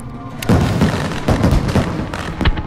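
Fireworks in Fallout: New Vegas, a run of booming bursts and crackling pops at irregular intervals, loud and fairly close.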